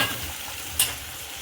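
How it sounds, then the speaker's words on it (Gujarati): Chopped onion, tomato and chili fry in hot oil for mamra khichdi, a steady close sizzle with a brief stir-like burst partway through, no voices. "હવે આપણું ડુંગળી ને ટમેટું ને મરચું ને બધું મસ્ત તેલમાં ચડી ગયું છે"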